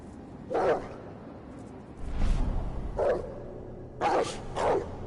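Dog barks sound in the video game Werewolf The Apocalypse Earthblood, several short, moderately loud barks at irregular intervals with a couple in quick succession near the end, over a dull low rumble.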